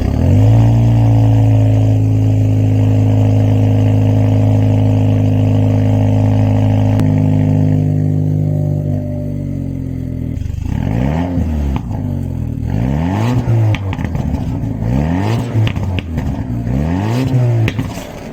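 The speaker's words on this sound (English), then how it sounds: "I'll be trying out this Jaguar XF X250 with a V6 diesel" A Jaguar XF X250 with a V6 diesel engine revs hard and loud. Long steady tones swell and shift, then a run of repeated rising and falling revs blips up and down in a rhythmic pattern, close by and with no voices over it.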